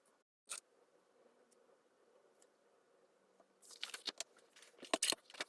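Scissors snipping through a paper card background while crafting a Christmas bauble card with stencils, a quiet room tone first, then a cluster of sharp close cuts and crisp paper rustles near the end.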